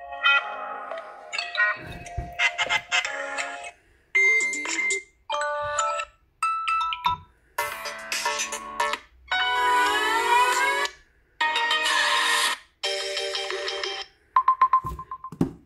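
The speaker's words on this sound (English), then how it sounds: "Let's have a listen. How loud the speakers are to start with." A Samsung Galaxy A04s plays a sequence of ringtone and alert melodies through its built-in speaker, bright electronic chimes and tones coming in separate bursts with short gaps between them, loud and clear with no talking.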